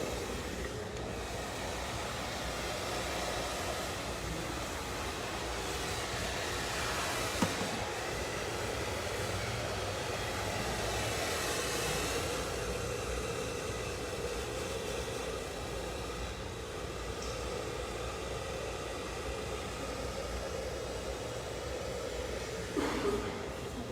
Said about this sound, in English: I need a little bit of my dryer.